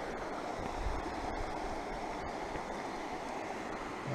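Steady broadband rush of the Halliste river flowing, a continuous outdoor water wash with some wind buffeting at the microphone, no voices present.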